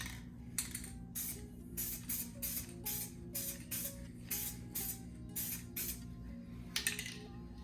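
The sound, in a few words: spray paint can spraying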